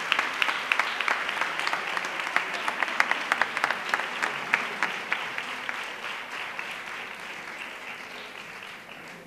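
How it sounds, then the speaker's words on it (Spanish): Audience applause at a carnival proclamation event in San Juan de Aznalfarache for a school poster contest winner, steady clapping from a moderate crowd that slowly thins and fades. "Fuerte el aplauso para él y al escenario."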